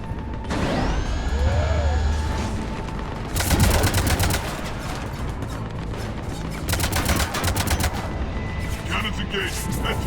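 Cannons firing in Mass Effect 3 on Omega, loud bursts of rapid gunfire-like blasts repeating in two or three volleys over a dense battle din, with a voice speaking through the noise.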